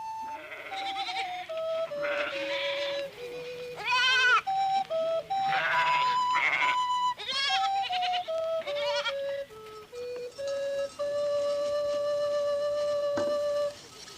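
Goats in a farm corral bleat over and over, a steady run of loud, wavering calls from several animals close by, with brief pauses between cries and no talk.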